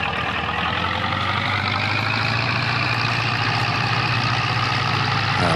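A tractor engine in the video game Farming Simulator drones steadily and close, a loud, even low rumble whose pitch edges upward as it works through its gears.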